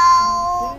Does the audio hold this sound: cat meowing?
yes